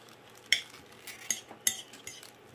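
Utensil mixing a rice and meat mixture in a bowl for cabbage roll lasagna, a few distinct clinks and scrapes spaced about a second apart over soft stirring, close but quiet, no voices.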